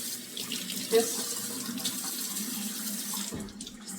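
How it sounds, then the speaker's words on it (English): Tap water pours steadily into a container holding tomato seeds in a kitchen, a continuous bright splashing hiss close by, with a brief spoken word over it. "And now you're just gonna put water in there."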